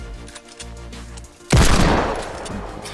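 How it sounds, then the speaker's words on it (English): Fortnite gunfire erupts suddenly after a quieter stretch of game sound: a loud, dense burst of shots that rings out and slowly tails off. "Shoot him."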